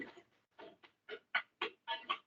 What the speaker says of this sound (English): This is the alarm sound